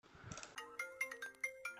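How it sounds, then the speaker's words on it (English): Phone ringing in the Rec Room video game, a repeating electronic ringtone with bright tonal chirps pulsing steadily after a brief rustle at the start. "Dang, Brody's really not giving up on this call."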